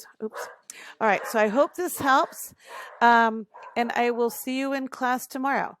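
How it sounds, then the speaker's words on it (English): Dogs barking and yipping repeatedly in high, harmonic bursts throughout, close and loud, overlapping with a person talking. "Sorry about the barking dogs"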